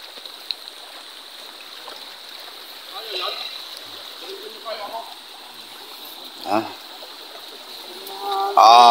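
Steady flowing river water with a soft constant rush, broken by a few brief splashes and a louder splash near the end.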